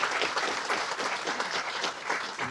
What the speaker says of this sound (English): Are we allowed to clap before the questions?